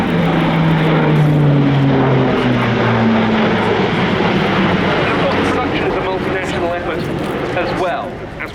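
An Airbus A400M military transport aircraft flying at the RIAT 2016 airshow, a loud, sustained propeller drone with a sliding pitch as it passes, easing off slightly at the end, with a commentator talking over it.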